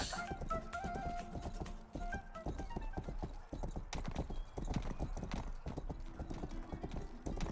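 A horse's hooves clip-clop in the medieval video game Rustler, a quick and steady run of hoof beats close up and fairly loud throughout, with game music and effects beneath.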